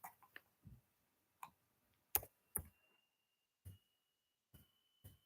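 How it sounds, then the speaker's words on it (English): Someone types on a computer keyboard in a quiet room, producing a sparse run of soft individual clicks with short irregular pauses between keystrokes. "sorry, I'm typing it out."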